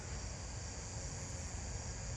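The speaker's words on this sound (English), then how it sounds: "Lesser angle wing." A lesser angle-wing katydid calls at night in a backyard, a faint high insect buzz among steady night-insect drone, no voices.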